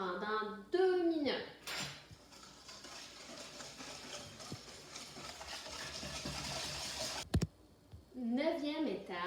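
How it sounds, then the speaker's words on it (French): Butter and brown sugar are whisked in a bowl with a steady, quiet scraping and clinking at close range. A voice speaks briefly at the start and at the end. "j'ajoute une tasse de cassonade avec le beurre. Et je fouette pendant 2 minutes."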